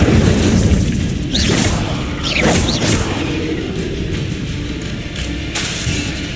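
Fire spell being cast in the video game Hogwarts Legacy during combat with a giant spider: loud whooshing, crackling bursts and booming impacts over a continuous rumbling game soundtrack, with several sharp swells in quick succession.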